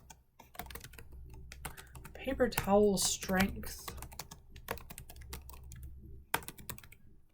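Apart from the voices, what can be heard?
typing a chart title on a computer keyboard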